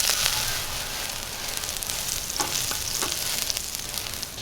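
Butter melting and sizzling in a pan for a sous vide burger, a steady close frying hiss with faint crackles and a few light pops, no talk.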